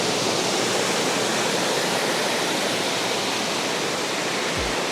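Upper Sols Creek Falls sends up a steady, dense roar of falling water, loud and unbroken throughout with no other sounds standing out.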